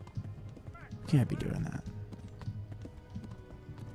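Horse hooves clop steadily beneath a rider in the medieval video game Kingdom Come: Deliverance, with a brief neigh rising in the middle, while someone speaks over the moving horse.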